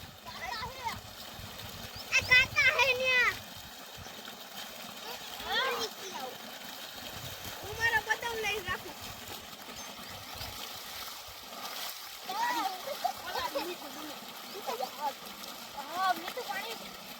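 Water splashes and gurgles close by in bursts as village children drink from cupped hands, their voices chattering and calling over a steady outdoor background.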